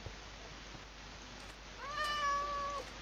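A pet cat gives one drawn-out, tonal meow lasting about a second, quiet and a little distant against a faint hiss of room noise, with no one talking.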